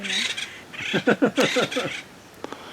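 Three birds give several loud, squawking calls in quick succession in Black Star Canyon, harsh and nearby, followed by a brief pause and one last short call.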